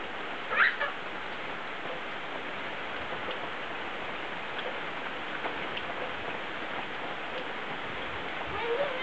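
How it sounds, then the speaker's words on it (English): Rain falls steadily outdoors, a continuous even hiss with a few louder ticks of drops, and a brief faint voice near the start. "The rain is washing it."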